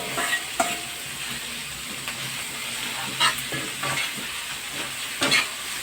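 Chicken intestines (isaw) for adobo hit a hot pan and sizzle steadily, a continuous bright frying hiss broken by a few sharp clinks of stirring, close and moderately loud, with no talking.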